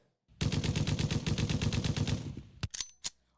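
A rapid burst of machine-gun fire played as a sound effect, about two seconds of steady rattling shots followed by a few separate sharp single gunshots, loud and alone with no talking.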